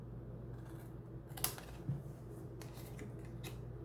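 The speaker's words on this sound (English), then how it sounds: "Taking the scissors," Quiet, crisp snips of scissors cutting paper, a few separate cuts over a steady low background hum.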